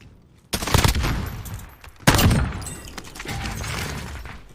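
A Jak-12 shotgun in Call of Duty Warzone fires in rapid bursts: two loud, dense volleys of blasts that ring out and decay, with no voices.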